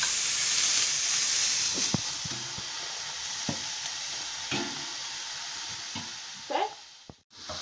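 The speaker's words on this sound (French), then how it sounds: "Alors, on ajoute le lardon ici, dans la casserole." Butter and bacon lardons sizzle in a saucepan on the stove, a steady frying hiss with a few scattered clinks and stirring knocks.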